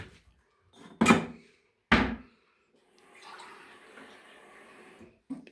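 Water poured into bread dough for village tin bread, mixed with oil in a rural home kitchen: two sharp knocks, then a soft, steady trickling pour lasting a couple of seconds, close and fairly quiet.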